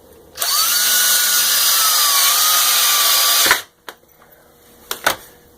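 A power drill drives screws to fix casters onto a wooden cart, whirring loudly and steadily for about three seconds before stopping, followed by a few short clicks and knocks of handling.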